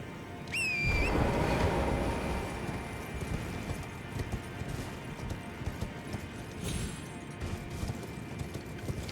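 In the video game Elden Ring, a horse neighs briefly at the start, then steady clip-clopping hooves trot on over a busy game-like background ambience.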